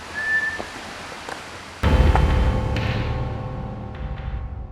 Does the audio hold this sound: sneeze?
no